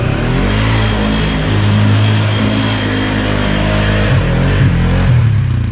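A Polaris Sportsman ATV on 28-inch mud tires revs while pushing through a muddy rut. The engine drone is loud and close, holding steady with shifting pitch, and nobody speaks.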